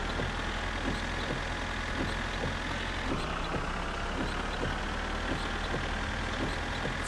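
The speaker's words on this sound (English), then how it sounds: "what with the rain and the engine noise and the wipers" A car engine idles and drones steadily in My Summer Car while rain falls and wipers sweep in a regular rhythm, an even mechanical hum with periodic soft thumps throughout.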